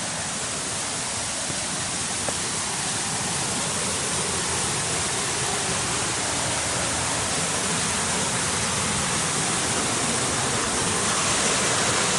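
The Monachil River at Los Cahorros gorge flows with a constant, broad rushing hiss of water, steady and fairly close throughout, with no talking.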